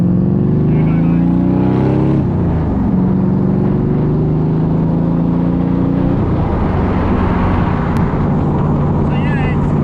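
A Gardner Douglas Cobra's V8 engine revs and accelerates close by, loud rising drones climbing in pitch through several gears with brief drops between shifts.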